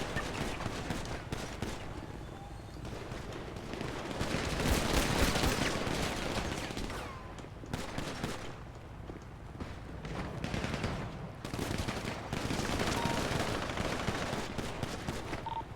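Gunfire in a shootout during a GTA V roleplay game, rapid bursts of automatic and overlapping shots that swell and ease in loud, dense volleys with no clear talk.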